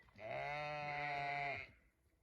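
A single sheep bleats once in a field on a smallholding, a clear, drawn-out call lasting over a second, fairly close and alone with no talk.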